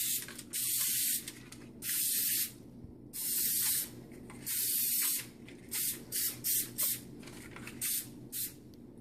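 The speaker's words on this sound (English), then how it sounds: "We spray the inside of the paper" Repeated bursts of aerosol cooking spray onto the inside of cupcake papers, four longer hissing sprays followed by several short quick puffs, close and clear.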